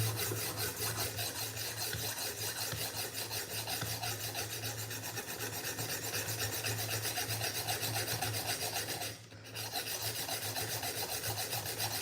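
Benchmade knife blade drawn repeatedly across a guided sharpening system stone, a continuous close rasping rub in quick strokes, broken by one brief pause near the end, no talking.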